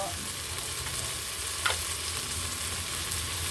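Vegetables for Bicol-style pansit bato cook in a pan with a steady close sizzle and a single brief scrape of stirring partway through; nobody speaks.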